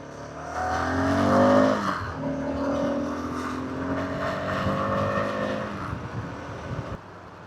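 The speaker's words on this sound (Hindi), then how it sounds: "आगे गाड़ी आने वाली है।" A car engine rumbles and revs on a mountain road between Sonmarg and Kargil in Ladakh, loud and steady with shifting engine tones, swelling early then holding at a moderate level before cutting off.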